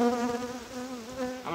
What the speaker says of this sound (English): I'd say there's a few bees in there,